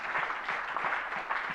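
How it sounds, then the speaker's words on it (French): An audience at a tech conference welcoming speech applauds a delegation arriving from China, a dense steady clatter of many hands clapping throughout the short stretch. "Je voudrais qu'on les applaudisse très fort."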